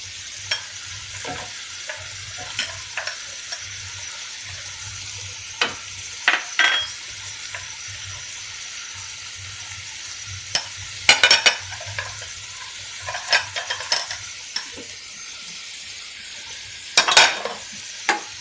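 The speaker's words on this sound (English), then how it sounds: "I'll saute it for some time, and I will put the onions which I have cut." Onions and potatoes sauteing in a pan with fenugreek leaves, giving a steady low sizzle broken by scattered scrapes and clinks of a stirring spoon against the pan.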